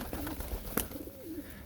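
Pigeons cooing at close range, giving soft low warbling coos against a noisy background with a brief rustle or knock partway through.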